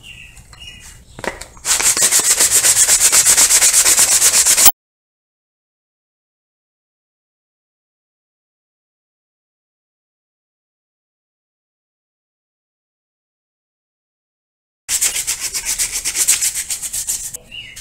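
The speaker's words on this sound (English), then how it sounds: "Now we'll be doing some hand sanding with 150 grit sandpaper." Hand sanding a wooden slingshot with 150 grit sandpaper: a steady, scratchy rubbing for a few seconds, a long silence, then another stretch of sanding.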